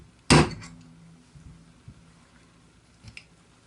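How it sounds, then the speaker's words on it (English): Metal pin being drifted out of a Ruger Charger .22LR pistol with a punch: one sharp, loud tap followed by a few faint, scattered light knocks, up close with no talking. "First thing we need to do is to drift out that pin here."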